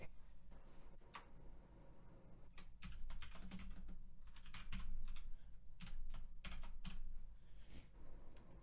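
Computer keyboard typing in quick irregular bursts of soft key clicks, fairly faint over a low steady room hum.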